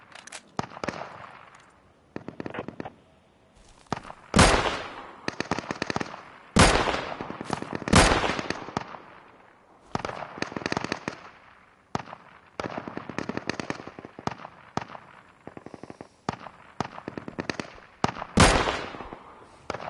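Gunfire in the survival shooter Deadside comes as repeated sharp cracks and rapid bursts, some loud and near, others fainter, scattered irregularly throughout with brief gaps between volleys.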